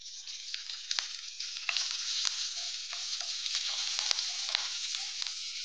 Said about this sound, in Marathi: हिंग घालून घ्यायचंय आणि 7-8 कढीपत्त्याची पानं देखील आपल्याला घालायची आहेत आणि फोडणी छान खमंग